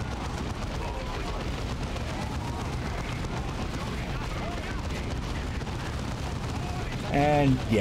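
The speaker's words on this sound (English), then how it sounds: "Our heavy bolters are deadly, but they take time to set up and have a limited field of fire." A Devastator squad's heavy bolters hammer away in Dawn of War 2, with sustained rapid gunfire and explosive battle noise running steadily throughout and a short spoken remark at the close.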